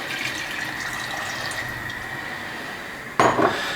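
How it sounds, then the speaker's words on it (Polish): Water pours steadily into a cooking pot of beef stew in dark sauce with a soft, continuous trickle, ending in a brief louder clatter of metal near the end. "Dolewam jeszcze 300 ml wody, żeby tego płynu to było troszeczkę więcej."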